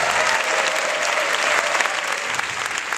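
A festival cinema audience at a midnight film screening claps warmly, a full, steady round of applause that holds at an even level from start to finish.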